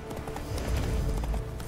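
Horse hooves galloping in the video game The Witcher 3, a quick run of close, thudding clip-clop beats in fast rhythm with a low rumble beneath.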